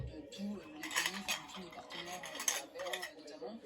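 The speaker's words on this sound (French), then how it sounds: "Dans la petite cuillère à café, je vais prendre comme ça là le miel." A small teaspoon scrapes and clinks as it scoops honey, giving close, light metallic taps and scraping in short irregular bursts against a quiet background.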